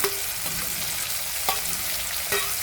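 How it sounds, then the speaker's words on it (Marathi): Onion goes into hot oil with sautéed soaked lentils and peanuts, producing a dense steady frying sizzle with a few brief stirring knocks, close and with no talking. "भिजलेली डाळ आणि दाणे आधी तेलावर थोडे परतले. त्यानंतर कांदा टाकते."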